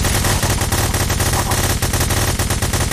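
Video game gunfire roars without a break, rapid automatic bursts blending into a loud, dense barrage right up close.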